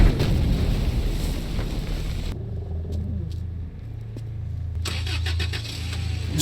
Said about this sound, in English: Snake, do you know how loud a car engine is?